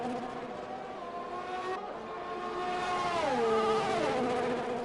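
Racing car in a racing video game with an engine suffering a tapping fault, a loud, steady, buzzy engine drone whose pitch holds and then dips and rises as it shifts, with no talk.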